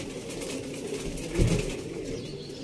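Low, close cooing from a male pigeon in a loft, with a brief louder flutter midway that may be wingbeats.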